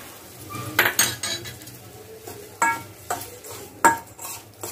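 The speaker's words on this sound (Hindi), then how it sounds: "और इसे चम्मच से मिक्स कर देते हैं" A metal spoon clinks and scrapes against a bowl as hot oil is stirred into semolina for homemade golgappa dough, a series of sharp, close knocks and taps spaced irregularly with no talking.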